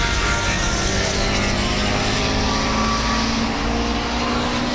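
Race car in the 2K Cup series passing on a racetrack, heard from trackside as a steady, loud engine drone that holds throughout without breaks.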